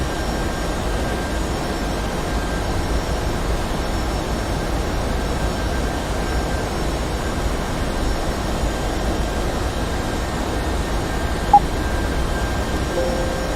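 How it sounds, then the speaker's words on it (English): Boeing 757 engine noise in a flight simulator, a constant broadband roar with a faint steady whine, unchanging and close, like a cabin-level drone. "I am flying a Boeing 757-2."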